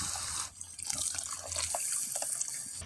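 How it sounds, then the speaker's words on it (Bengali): Water splashes steadily into a pan of egg tadka with green chilli, salt and turmeric during home cooking, a continuous close pour with no talk. "এবার আমি জল দিয়ে দিচ্ছি।"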